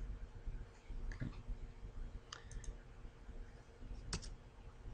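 Computer keys are pressed during 3D building-modelling software training, a few scattered sharp clicks over a quiet room hum, with a couple of close double taps.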